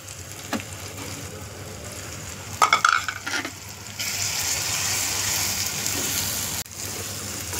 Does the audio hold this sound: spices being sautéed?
yes